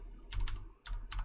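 Two quick bursts of typing on a computer keyboard, each a short cluster of crisp key clicks separated by a brief pause, close and clear with no talking.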